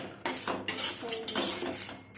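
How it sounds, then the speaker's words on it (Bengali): Metal utensils scrape and clatter against a wok in quick, uneven strokes as chickpeas are stirred and fried, close by, with no talking. "ছোলাটাকে কড়াই এভাবে ভালো করে ভেজে নেবো"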